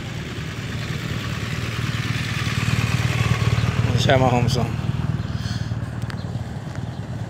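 Motorcycles, a Harley and a Honda among them, idle together at a Friday group ride meetup of Kuwait bikers, a steady low rumble filling the scene while someone talks over it.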